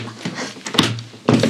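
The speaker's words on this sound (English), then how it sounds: "Yeah, open the door." A door opening onto the roof terrace of a Scottish castle, with a few knocks and thumps of the handle and door, ending in a louder clunk, near and fairly loud.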